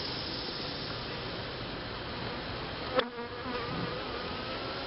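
Honey bees buzzing around an open hive during an inspection, a constant close hum with one bee passing near the microphone, no talk.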